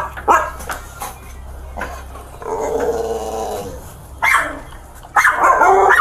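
Dogs bark and growl in loud bursts close by, with a stretch of snarling in between and sharp barks near the end.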